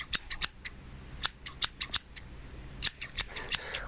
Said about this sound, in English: Chopping, scissors. Yeah, scissors, very good.